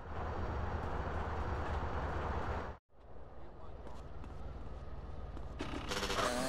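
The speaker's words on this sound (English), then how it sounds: "Follow that train!" A train rolls past in GTA San Andreas with a steady, heavy rumble that cuts out abruptly for a moment and then resumes more quietly, with game voices and effects layered on top.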